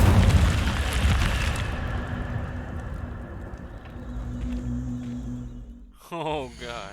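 Incendio fire spell from Hogwarts Legacy erupting in a loud, dense blast that rolls off slowly over several seconds, followed by a short voice near the end.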